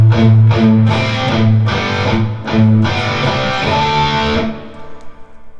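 Distorted electric guitar plays a palm-muted riff, chugging muted low notes with a few ringing chords, loud and close, alone with no voice, ending on a sustained fading chord.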